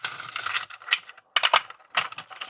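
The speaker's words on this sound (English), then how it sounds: "This is a 5mm hex wrench that I'm using to remove these screws." A 5mm hex wrench backs hex screws out of the wheels of a Hayward TracVac pool vacuum suction cleaner. Close, sharp ratcheting clicks and scraping come in several short bursts with brief gaps.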